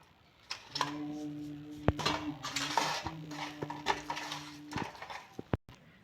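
Rohu fish pieces being rubbed with salt and turmeric in a metal bowl, giving a series of light clinks, scrapes and taps of metal and utensils at close range, fairly quiet and without talk.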